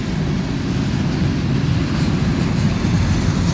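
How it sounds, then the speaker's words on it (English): A train climbs a grade on sanded rails, a steady, loud low rumble and roar of locomotive and wagons that rolls on without letup. "This is the first train coming up the hill since at least early morning."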